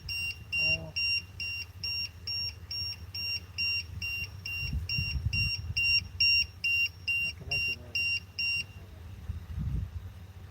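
An RC car's battery voltage beeper sounds repeated rapid shrill electronic beeps in even bursts, close and insistent, over low rumbling handling noise; someone speaks briefly between the beeps.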